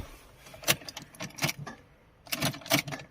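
Keys jangle in the ignition of a Fiat Grande Punto as it is turned, a few sharp metallic bursts in two clusters, with no starter cranking heard.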